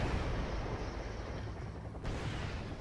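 Apache Hellfire missiles slam into tanks in Wargame: European Escalation, producing a dense run of rumbling, distant-sounding blasts with a sharper burst just past the midpoint.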